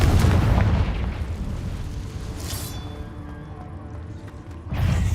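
Fiery Confringo spell blasts in Hogwarts Legacy, heavy booming explosions loud at the start, then a rumbling tail with a whistling tone, and another burst near the end during combat in a cave.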